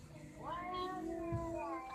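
A cat meows once in a drawn-out, rising then level call, fairly close and clear, with faint room noise and light voices in the background.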